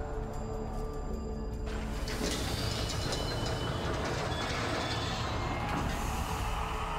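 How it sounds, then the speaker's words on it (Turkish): An interdimensional train arrives in the Warframe video game, a loud, steady rolling rumble with a brighter metallic wash building after the first couple of seconds and holding to the end, with no talk. "Boyutlar arası tren gelmiş."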